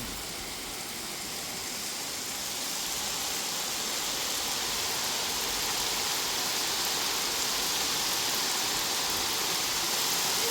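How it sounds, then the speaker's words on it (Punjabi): Torrential August rain, driven by strong winds in the village of Fatte Wale, makes a dense, unbroken roar that holds steady and loud for the whole stretch. "ਤੇਜ਼ ਬਾਰਿਸ਼ ਲਗਾਤਾਰ ਆ ਰਹੀ"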